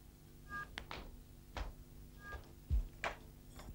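A landline telephone being dialed indoors, with a few separate faint clicks and short tones spaced irregularly over a few seconds in a quiet room.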